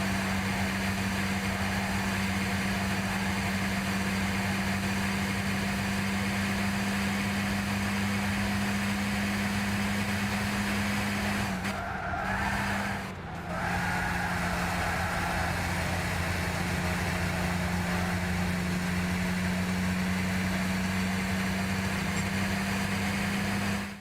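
Car engine from the Gran Turismo racing game, a steady idling hum held at a constant pitch for about twenty-four seconds, with a brief dip near the middle and no speech.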